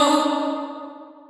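A vocal line's long reverb tail from an Arturia Reverb Plate 140 plugin at its default setting, bright and washy, fading smoothly away over about a second.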